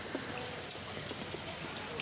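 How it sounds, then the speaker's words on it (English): Heavy rain falls steadily on the roof of a beach cabana in Mexico, a dense, even hiss with scattered drop patters, close and continuous. "We got like double towels because it's raining still and it's wet and it's kind of leaking through the roof."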